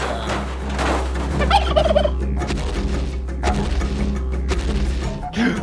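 A turkey gobbles in quick, warbling bursts that stand out clearly against a steady low hum, with a few thuds and clatters around it and no talking.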